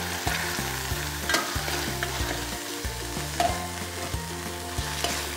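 Vegetable lollipop balls are tossed and stirred in tomato sauce in a hot pan, a continuous sizzle with rhythmic scraping and stirring strokes repeating about every second, no talking.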